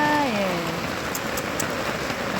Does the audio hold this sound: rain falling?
yes